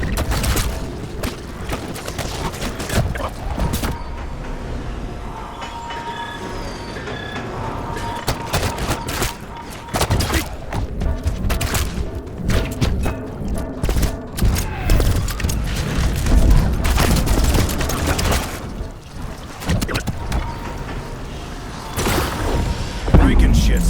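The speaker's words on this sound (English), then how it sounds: "Look for the radio discs and shoot them" Repeated gunfire in Call of Duty zombies mode as shots hit radio discs at the Cosmodrome, scattered loud bursts and booming impacts throughout under game effects and frequent speech.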